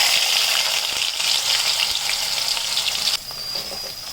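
Bitter gourd slices fry in a pan until golden with a loud, dense sizzle and light stirring, which drops abruptly to a softer hiss near the end.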